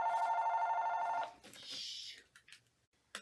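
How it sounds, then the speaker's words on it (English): A telephone bell rings steadily for over a second in a quiet room, then cuts off, followed by faint rustling and small handling sounds. "Sorry about the phone ringing."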